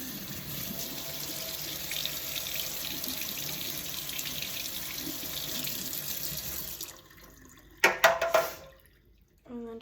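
A tap runs steadily into a sink for several seconds while something is rinsed, then shuts off, followed by a few brief splashes and clunks and a short burst of sound near the end.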